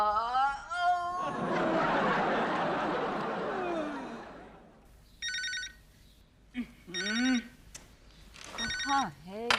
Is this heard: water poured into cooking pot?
no